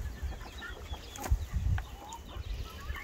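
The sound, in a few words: rooster clucking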